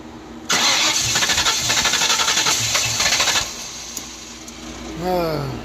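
A 1994 Vert engine that won't start cranks on the starter in a steady, loud, rhythmic churn for about three seconds, then cuts off and falls silent, with a brief voice afterward.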